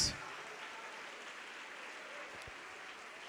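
A church congregation applauding, heard as a soft, steady wash of clapping from a crowd at some distance, fairly faint and continuous without a break.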